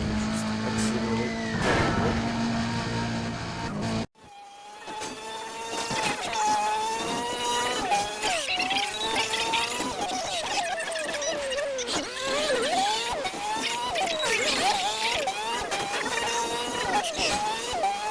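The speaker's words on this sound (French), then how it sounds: "je vais juste accélérer" Car accelerating in Need for Speed, a steady loud engine drone that cuts out briefly, then climbs through rising and shifting revs as the car speeds up, with game music or effects layered over it.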